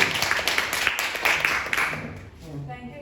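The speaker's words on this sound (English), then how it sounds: "with a thunderous round of applause" Applause from an audience at a club's Holi special meeting, a dense round of clapping for about two seconds that thins out and fades, with some murmuring underneath.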